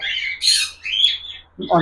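Cockatiel chicks around three and a half months old give a series of close, loud raspy squawks, several harsh calls in quick succession with brief pauses between them.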